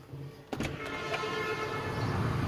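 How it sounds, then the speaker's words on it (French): Sustained car horns blare in a busy street in Hoi An, Vietnam, a steady tonal honk joining the traffic rumble after a brief pause. "là c'est les klaxons"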